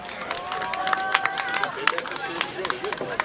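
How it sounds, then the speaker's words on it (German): A crowd claps and cheers for the Wasserhunde team at an outdoor pig-trough boat race, scattered hand claps and excited voices mixed with people talking nearby. "Einen Applaus für die Wasserhunde!"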